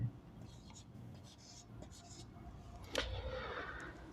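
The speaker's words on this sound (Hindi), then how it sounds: "यहाँ पे लिख लेते हैं" Marker or chalk writing on a board during a physical education lecture on types of joints, heard as faint scratchy strokes in a quiet room, with a slightly louder burst of writing near the end.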